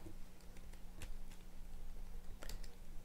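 Quiet, sparse clicks of someone typing code on a computer keyboard during an Android programming session, a few soft keystrokes spaced irregularly over a low steady hum.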